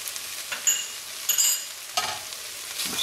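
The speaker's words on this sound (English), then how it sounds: "We'll stir this up and we'll let this cook for a minute or 2 before we add our beans." Sausage, vegetables, garlic and a spice mixture for Louisiana red beans are stirred in a pot, a low frying hiss broken by a few short scraping strokes of the spoon, nearby and unvoiced.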